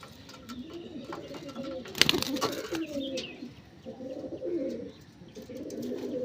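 Malayai pigeons cooing in repeated low, throaty phrases at close range, with a brief sharp flutter or clatter near the start and steady background noise throughout.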